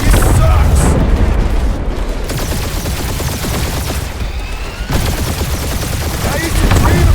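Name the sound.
space battle gunfire and explosions, Guardians of the Galaxy video game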